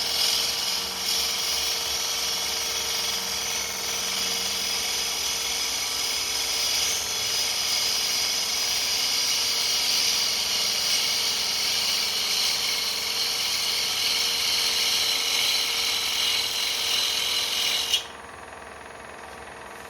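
A spindle gouge makes a shearing cut on a small cherry bowl spinning on a wood lathe, a steady, loud, continuous hiss and rasp that holds for about eighteen seconds before stopping abruptly.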